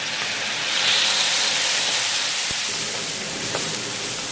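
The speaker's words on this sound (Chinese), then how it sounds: "然后倒入调好料汁" Seasoning sauce poured into a hot pan of browned chicken pieces with scallion, ginger and star anise, giving a loud, steady sizzling hiss that continues throughout with a couple of faint clinks.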